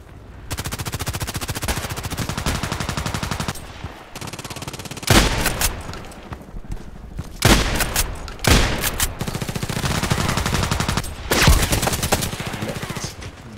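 Gunfire from a UMP45 submachine gun and an MP-133 pump shotgun in the Contract Wars video game: long rapid automatic bursts alternate with several loud, heavy single blasts, close and dominant.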